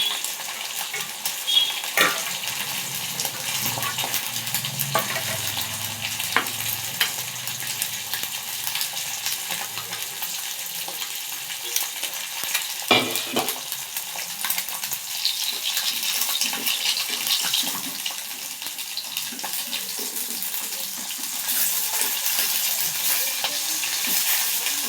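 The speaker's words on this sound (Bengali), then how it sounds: "বেশি একটু কড়া ভাজা হবে।" Food being fried crisp and stirred in a pan, with a steady sizzle and occasional scraping strokes running throughout at close range, and no talking.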